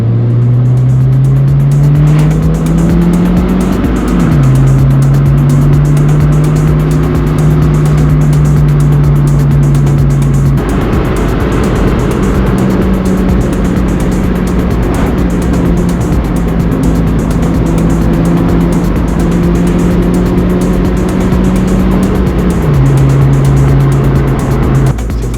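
Honda Fit engine droning steadily while climbing and descending winding hilly roads in West Virginia, pitch rising and falling with shifts and throttle changes, loud and close throughout, no speech.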